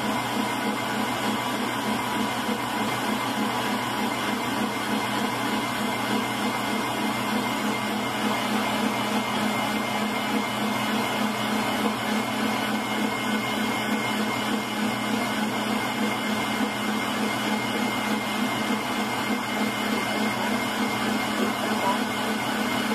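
A stand mixer whips chantilly cream in its bowl with a steady, continuous motor whine and whirr that runs unchanged throughout, with faint talking in the background.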